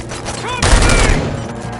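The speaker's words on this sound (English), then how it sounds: "Suspects are resisting! Covering fire!" Sustained burst of gunfire from a firefight in Robocop: Rogue City, loud and dense for over a second amid game effects, with brief tonal chirps just before.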